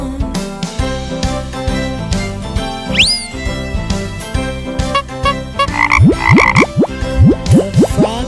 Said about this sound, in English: The frogs on the bus go croak, croak, croak